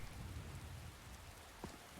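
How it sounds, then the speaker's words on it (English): Steady rainfall in Skyrim patters softly and continuously at a faint level, a low even wash of drops with no other sounds standing out. "And it's raining."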